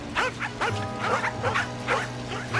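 Several dogs bark and yip in quick, repeated bursts at moderate distance, the barking overlapping in an agitated, continuous chorus.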